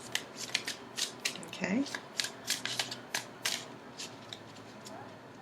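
Crisp riffling bursts of a new tarot deck being shuffled repeat in quick succession, close up, with a brief spoken word in the middle.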